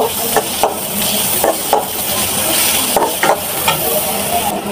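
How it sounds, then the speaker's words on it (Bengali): Chopped onions and garlic sizzle in hot oil for a bitter greens dish, a steady close hiss broken by several short scraping stirs, with no talking. "তেল যখন গরম হয়ে আসবে পেঁয়াজ কুচিগুলি দিয়ে দিচ্ছি।"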